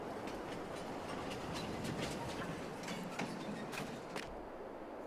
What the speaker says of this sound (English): Let's see if I can jump onto the train when it whizzes by.